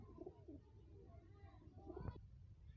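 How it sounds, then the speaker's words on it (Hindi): Pigeons of a breeder stock coo softly in a low, throaty murmur, several short repeated calls heard at a distance over steady background noise and faint voices. "बहुत ही नयाब कबूतर हैं आज।"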